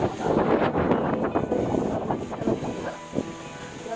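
Strong wind roars and buffets against the microphone in loud, gusting bursts, easing slightly toward the end.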